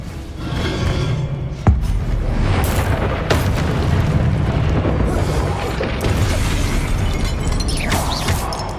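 Spell explosions and magical blasts in the video game Hogwarts Legacy: a dense, continuous barrage of booming bursts and crackling impacts, loud and close, with one sharp thump standing out early.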